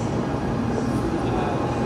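Steady low rumble and rushing hiss inside a Shinkansen bullet train running through Japan, a continuous, even drone with no voices.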